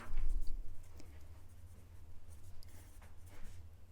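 A pen writes a word on a board or paper during a Turkish lesson, giving a soft, close scratching that comes in short strokes over a low steady hum, with no voices.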